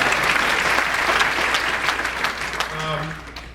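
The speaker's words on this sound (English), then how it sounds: "So maybe give her a round of applause too." Audience applause at an Illinois Democratic gubernatorial forum in Matteson, steady clapping from a crowd filling the room, with a voice speaking briefly near the end.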